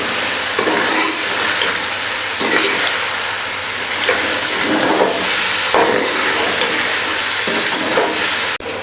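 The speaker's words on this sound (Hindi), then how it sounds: "गोश्त शामिल करने के बाद अच्छी तरह भून देंगे गोश्त को तकरीबन 5 से 7 मिनट" Beef pieces fry in a karahi with a loud, dense, continuous sizzle, while a spoon stirs and scrapes at a slow, regular rhythm, heard up close with no one talking.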